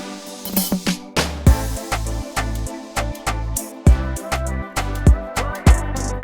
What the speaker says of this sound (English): I added this big airy crash that I like to use a lot, and I reversed that to create a bit of a riser